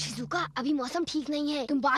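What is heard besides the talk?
No everyday noises stand out.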